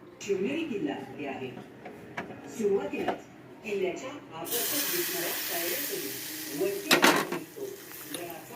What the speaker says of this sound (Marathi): आता याच्यात टाकणार आपण गरम तेल